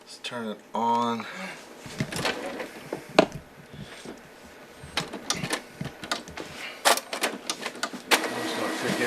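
An Epson Artisan 725 inkjet printer powers on and runs its startup cycle, giving a series of short mechanical whirs, clicks and clunks over several seconds, close by, with a person speaking briefly near the start.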